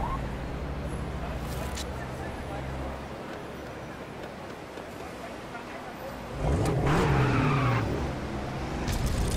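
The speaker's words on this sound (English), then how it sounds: "Oh no, I just smashed up my car." Car crash in the video game LEGO City Undercover on a city street near a steep, winding hill: a sudden loud impact with skidding and scraping over steady engine noise and music.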